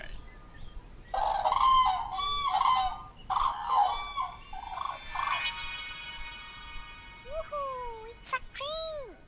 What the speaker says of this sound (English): It's a crane.